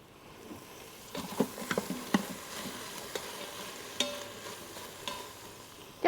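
Onions frying in a pan at a luxury resort kitchen, a soft steady sizzle under scattered stirring clinks and scrapes, fairly quiet and close, with no talking.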